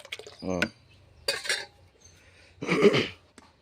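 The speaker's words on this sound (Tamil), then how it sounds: "நல்லா கலக்கி விடுங்க." A spoon clinks and scrapes in a vessel of rose milk juice as it is stirred in short bursts, with quiet gaps and a low background hum between them.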